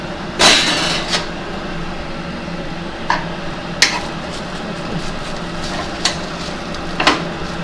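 Rice-batter appe roasting on their second side in an appe pan: a soft, steady sizzle with occasional light clicks of a utensil against the pan, close and moderately loud, with no speech.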